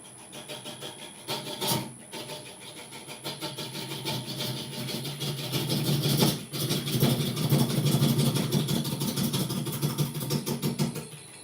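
A wood lathe spinning a very large pear tree burl: a continuous whirring, rubbing drone with a steady hum that grows slightly louder and rougher over time, with a couple of brief knocks.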